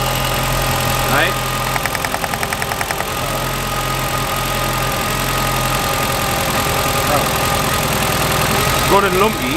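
A turbocharged 1.8-litre engine in a VW Lupo track car idles rough and lumpy, a steady uneven chug close by with brief rattly pulses, while people talk over it.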